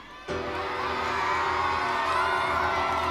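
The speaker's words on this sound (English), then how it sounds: "I think if we give them lots of encouragement and a big cheer, we can convince them" Schoolchildren in a big crowd at a Carols by Candlelight concert burst into a sudden loud cheer that holds steady, a dense wall of shouting and whooping with no one speaking over it.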